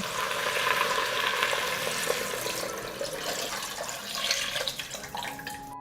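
Water is poured into a pot of softened vegetables and chicken fillet for soup, a continuous splashing pour over a faint sizzle, close and moderately loud with no talking.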